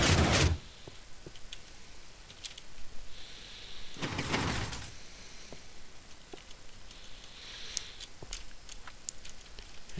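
A hidden piston door in Minecraft closes with a sharp mechanical burst at the start and another a few seconds later, with faint ticks and clicks between them.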